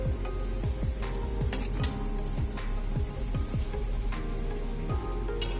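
Chowmein with tomato sauce and soy sauce is tossed and stirred in a hot pan, giving a steady sizzle with repeated scraping strokes of a spatula and a few sharper clinks. No voices are heard.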